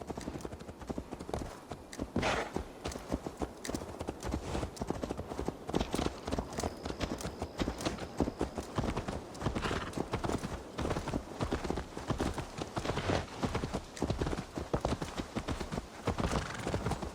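Horse hooves clip-clop at a steady walking rhythm in Assassin's Creed Valhalla, fairly faint and continuous with brief speech mixed in.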